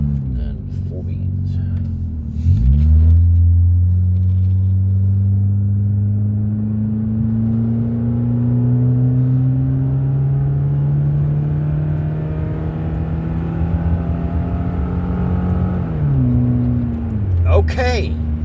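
A car floored out on the road at full throttle after a fault had kept it in limp mode: a loud, steady engine roar with rising pitch that holds for most of the stretch, easing off near the end.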